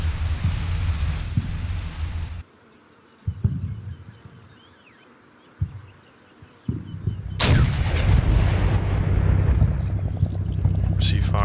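Tank cannon fire in the Combat Mission wargame during a tank duel: heavy booming blasts and a few sharp thuds break out of quiet gaps, then a loud sustained rumble of battle follows, with someone talking.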